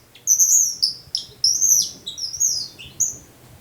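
Small songbird call imitated with a bird lure: a run of bright, rapid chirps and tweets in short bursts, close and clear over a quiet background.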